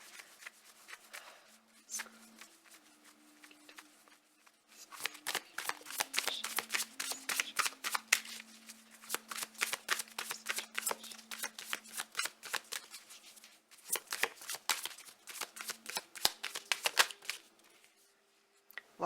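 A deck of oracle cards is shuffled close up in a pick-a-card reading, with repeated bursts of rapid riffling and flicking separated by short pauses, and no talking.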